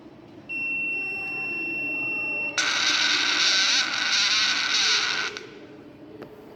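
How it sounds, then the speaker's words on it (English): A medicine reminder kit's alarm buzzer sounds alone, starting as a thin steady electronic tone and then switching to a loud, harsh continuous buzz for a few seconds before cutting off. "here's the buzzer which produces the alarm sound"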